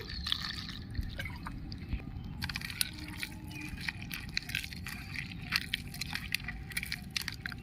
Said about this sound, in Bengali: ঠান্ডা জল দিয়ে দিচ্ছি